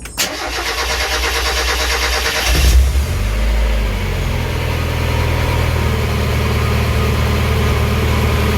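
A Mazda MX5 engine cranks briefly after a fuel filter service, catches with a low rumbling burst, then settles into a steady close idle that runs on evenly to the end.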